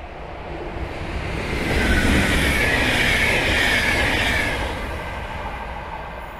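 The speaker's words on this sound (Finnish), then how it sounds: "Ja siinä meni Intercity-juna." A Finnish Intercity passenger train rushes past close by, a steady roar of rolling wheels and rail noise swelling to a peak and then fading slightly.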